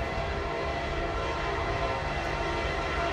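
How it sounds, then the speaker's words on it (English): A train approaches with a steady, loud rumble of rolling wheels and engine noise that fills the scene continuously, close by and unbroken. "here comes another train."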